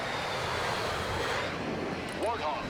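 A-10 Warthog attack jet in the real-time strategy game Broken Arrow, a steady broad engine roar holding throughout, with short rising tonal whistles near the end.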